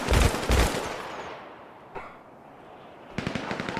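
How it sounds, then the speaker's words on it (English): A burst of gunfire in the GTA video game: sharp rapid shots up front, a lull with a single faint pop, then another quick volley at the end. "Wait, I haven't even shot and they're gunning me down."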